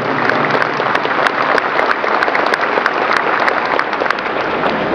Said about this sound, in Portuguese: eles merecem uma salva de palmas